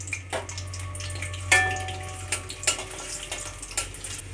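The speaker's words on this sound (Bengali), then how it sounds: "রসুনগুলো ভাজা হয়ে গেছে" Five whole garlic cloves fry in soybean oil in a wok over a gas stove, giving a steady close sizzle with occasional sharper crackles and stirring taps.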